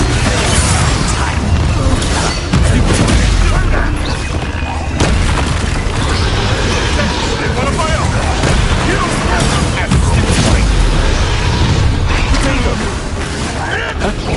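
An Expelliarmus spell blast in a Hogwarts video game lands amid loud, dense combat audio: continuous booming, crackling bursts and mechanical clatter, with a voice occasionally under the din.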